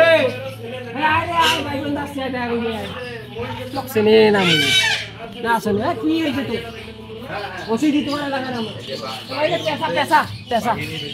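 Chickens at a small zoo in a town park, a mix of clucks and a crow from large fowl, heard close while someone talks over them almost throughout.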